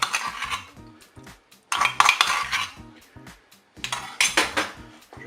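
A spoon stirs crème fraîche into the cider pork roast sauce in a pot, three bursts of scraping and clinking against the pot separated by short quiet gaps, close and clear with no talk.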